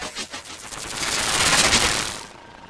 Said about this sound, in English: So the gunshot I'm really happy with. It was just this simple little bit of white noise.